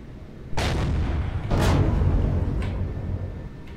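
Two heavy booming explosions from the video game Empyrion Galactic Survival go off about a second apart, each a loud, full-bodied blast with a rumbling tail, followed by a fainter third pop near the end.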